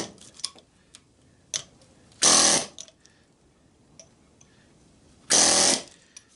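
An air chisel cuts into a scrap copper motor in two loud, harsh bursts of about half a second each, separated by quiet stretches with a few small clicks and taps.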